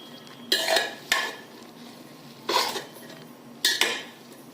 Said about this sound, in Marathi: सर्व भात एकदा एकत्र करायचं